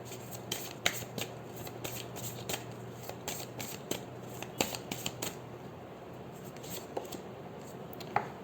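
Tarot cards being shuffled and drawn from the deck, close by, as a steady papery riffle broken by crisp snaps and flicks of individual cards for several seconds, with no talking.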